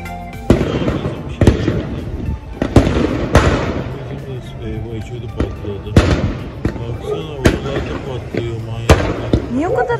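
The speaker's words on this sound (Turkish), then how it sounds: "Aşağıda patlıyor. Yerden havai fişek." Ground-launched fireworks pop and burst in a rapid irregular series of sharp bangs at moderate distance, with people talking over them.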